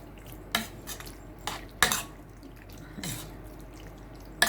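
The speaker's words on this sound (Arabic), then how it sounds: "هقلبها كده كلها ببعضيها" Spiced local beef liver with garlic being stirred in a pot, heard as a few sharp clacks and scrapes of a utensil against the pot with quiet pauses between, no talking.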